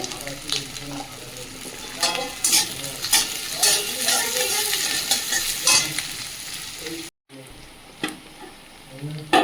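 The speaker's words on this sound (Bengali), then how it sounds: "পেঁয়াজটা ভাজা ভাজা হয়ে গেছে" Onions sizzle and fry in a pan with slit green chillies and whole cumin, with steady crackling and repeated stirring scrapes throughout. A brief dropout comes near the end, and a faint voice may be heard.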